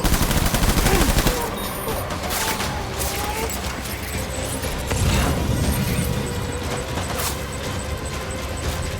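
Sustained gunfire in the video game Death Stranding, dense overlapping bursts and rapid volleys forming a loud, continuous barrage, with brief mechanical clatter and a voice shouting commands amid the shooting.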